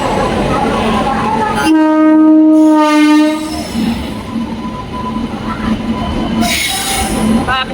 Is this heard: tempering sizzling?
no